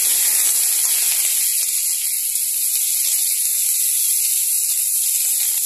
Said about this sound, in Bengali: এরপর আমি সব বেগুনগুলোকে দিয়ে দিলাম, ভালো করে নেড়ে চেড়ে নিচ্ছি।